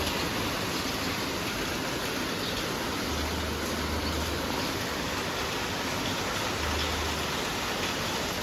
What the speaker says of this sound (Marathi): आता आमच्याकडे इतका पाऊस आहे ना, तुम्हाला दाखवते.